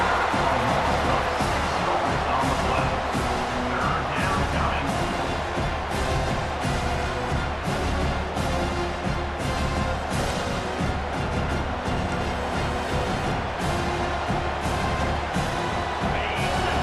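A home crowd roars in EA Sports College Football 25 as the defense faces third down, a dense, sustained wall of stadium noise with rhythmic surges, loud and continuous across the whole stretch.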